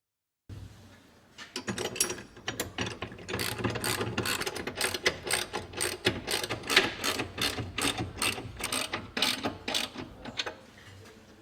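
Ratchet tightening the mounting nuts on an e-go caravan mover, a fast, steady run of close mechanical clicks continuing for several seconds after a brief silence.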